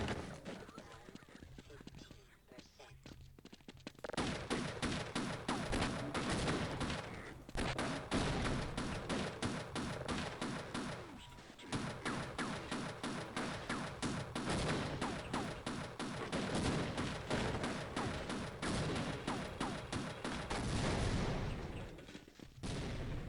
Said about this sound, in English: is that enough explosions for you?